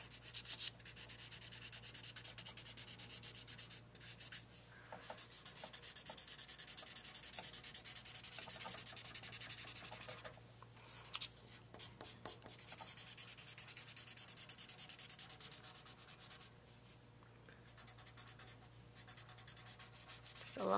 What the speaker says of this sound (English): use your finger or a blending stomp and just kind of shade and blend the pencil